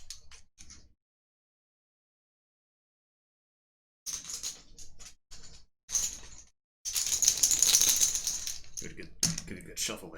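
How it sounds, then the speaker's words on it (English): War Chest board game tokens being shuffled, clattering bursts of chips clicking against one another in short clusters and then a longer rattling stretch, close and crisp, after a few seconds of silence. "Give it a good shuffle there"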